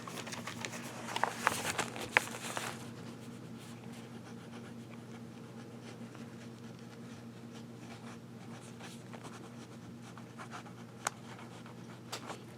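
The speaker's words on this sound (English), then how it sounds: "I'm just going to use this piece of paper right now and get to writing" A pen scratches across cheap paper indoors in a quiet room, with faint, intermittent writing strokes and a few louder crinkles near the start.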